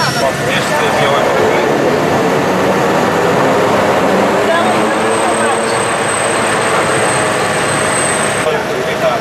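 An airplane flying over Lake Mead and Hoover Dam makes a loud, steady engine drone that fills the whole stretch without a break, with a voice talking underneath it.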